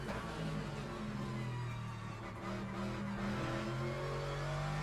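Continuous loud engine drone from inside a race car in a racing video game during a Daytona event, a steady high-revving hum with shifting pitch and no voices.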